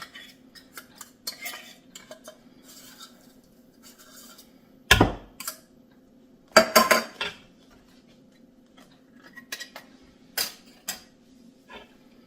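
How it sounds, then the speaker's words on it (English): Cans of tuna being emptied into a bowl, a sparse series of scraping and tapping sounds with a few louder metallic clanks of can against bowl, close up in a quiet kitchen. "So I'm just going to empty those tuna cans into the bowl."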